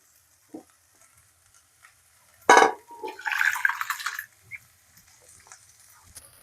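Boiled lentils splash into a pan of spice masala, giving a sudden wet burst followed by a sputtering sizzle that lasts about a second and a half before fading to quiet.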